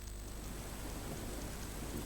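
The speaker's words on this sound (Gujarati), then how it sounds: "ગાજવીજ સાથે વરસાદની શરૂઆત થઈ છે" Heavy rain falls with thunder in Limbdi, Surendranagar, Gujarat, producing an even, dense patter over a deep low rumble throughout the short stretch, with no one speaking.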